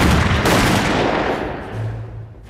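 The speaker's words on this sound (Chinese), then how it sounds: "炮火掩护，敌人火力太强，又有两辆坦克被摧毁" Dense gunfire and artillery from a battle scene in a Chinese anti-Japanese war drama make a loud, continuous roar of overlapping blasts that eases slightly toward the end.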